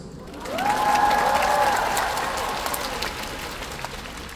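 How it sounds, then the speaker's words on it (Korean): A concert audience at a show in Incheon bursts into loud, dense applause mixed with cheering, rising quickly and holding steady before gradually thinning toward the end, with a high screaming tone sliding over the crowd early on. "자, 스스로에게 박수."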